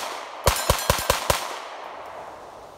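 Rapid gunshots fired at a steel plate on a shooting range: six sharp, loud cracks in quick succession within about a second, each trailing off into a short outdoor echo, with no voices.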